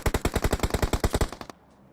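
Rapid automatic gunfire in PUBG Mobile, a loud, steady burst of about fifteen evenly spaced shots over a second and a half, then cutting off to near silence.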